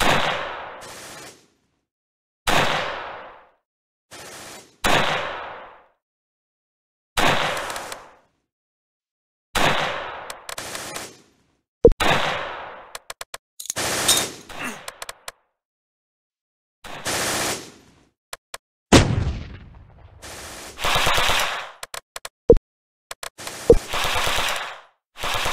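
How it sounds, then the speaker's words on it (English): Heavy gunfire in the Close Combat war game, with repeated loud machine-gun bursts and single shots cutting in and out between brief silences, some blasts trailing off in short echoing decays. "We're under heavy fire."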